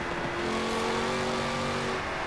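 Car engine in Forza Horizon 4 droning steadily on a road, a continuous humming tone at even loudness, close and with no talking.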